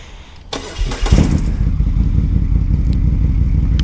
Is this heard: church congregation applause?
no